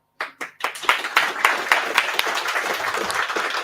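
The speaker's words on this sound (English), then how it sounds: "Big applause, big thanks." An audience at a Python conference breaks into applause after a talk, starting with a few scattered claps and building into steady, dense clapping, fairly close.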